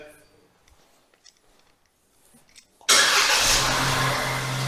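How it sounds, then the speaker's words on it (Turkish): A 2020 Opel Astra J engine starts by remote command, with near silence and faint clicks first, then an abrupt, loud start that settles into a steady idle. "Marş emrimizi gönderiyoruz. Kontağı açtı."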